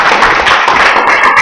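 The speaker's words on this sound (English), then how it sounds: "give a big round of applause to Rik Deskin" Audience applause for comedian Rik Deskin at a comedy show, a loud, dense wash of clapping that holds steady without a break.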